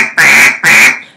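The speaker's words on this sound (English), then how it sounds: "You can practice by doing quacks in a series like this" Two loud, drawn-out quacks blown on a duck call, close and clear, each a raspy nasal burst with a short gap between them.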